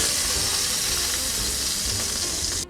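Pork belly sizzles in a pan for Korean BBQ tacos, a dense, steady crackling hiss at close range that cuts off abruptly at the end, with no talking.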